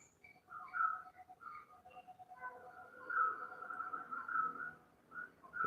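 Birdsong in a jungle setting at a yoga shala: clear, whistled notes and short phrases repeating over a quiet background, moderately close and unaccompanied by speech.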